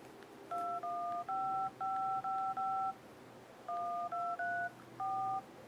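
Keypad tones from a Sony Ericsson Xperia X10 mini dialer as a test call is placed: two quick bursts of steady, even beeps, six then four, with brief pauses between presses over a low background hum.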